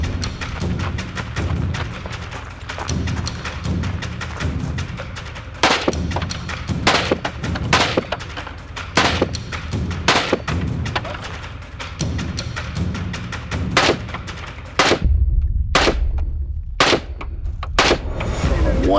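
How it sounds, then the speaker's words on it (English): Gunshots fired at targets during a timed shooting run ring out as repeated sharp, loud cracks, spaced irregularly and sometimes in quick pairs, over a constant low rumble, with a tighter volley near the end. "One or two of those shots might have went off target, but overall, felt like a pretty good run."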